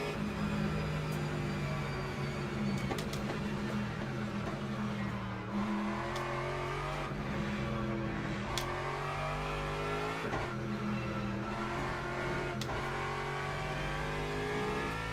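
Race car engine at Spa in the sim game Le Mans Ultimate, a continuous loud drone rising and falling in pitch through gear changes and revs, with sharp clicks scattered over it and no talking.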